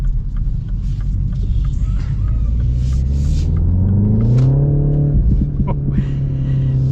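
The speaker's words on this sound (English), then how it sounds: "You get little pops out of the exhaust" A 2025 Mini Cooper two-door JCW revving, its engine rumble rising in pitch then settling, with small crackling exhaust pops scattered over the steady idle.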